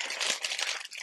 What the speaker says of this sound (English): I'm gonna crunch up the paper